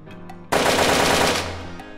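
Rapid gunfire from a gun in the VR game Hand Simulator, a loud sustained burst of shots that cuts in sharply and then tails off.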